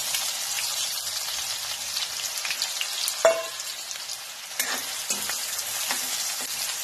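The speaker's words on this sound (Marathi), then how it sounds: "याच्यामध्ये कांदा घालायचा" Onion frying in oil after mustard seeds have popped, a steady crackling sizzle with a sharp clink of a utensil and a few stirring scrapes, heard alone without speech.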